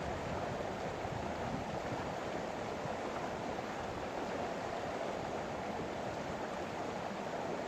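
Water rushes steadily through a gold prospecting sluice on a California river, a dense, continuous wash of flowing water that holds at an even level throughout with no voices.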